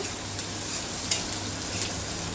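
Onions frying in a pan for a Bengali vegetarian meal with lentil dal, giving a steady close sizzle with soft stirring scrapes and no talk.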